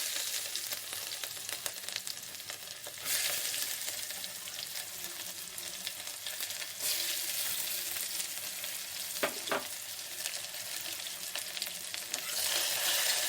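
Onions fry in hot oil in a pan for a mutton lung gravy, producing a loud, dense, continuous sizzle that swells in intensity at intervals, with a couple of faint stirring knocks and no voices.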